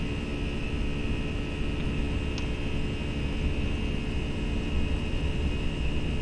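Simulated Airbus A319 jet engines roar steadily during the takeoff roll in a flight simulator game, a constant dense rumble and whine with no talk.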